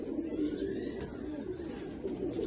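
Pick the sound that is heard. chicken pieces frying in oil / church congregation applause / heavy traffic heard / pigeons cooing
pigeons cooing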